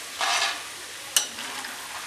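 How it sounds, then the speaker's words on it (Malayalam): Dried cassava pieces frying in oil for sweet balls: a short hiss of sizzling, then a sharp clink and a softer continuing fry, fairly quiet and close, with no voices. "കപ്പ മുഴുവനും ഞാൻ ഇതേപോലെ ഫ്രൈ ചെയ്തെടുത്തിട്ടുണ്ട്"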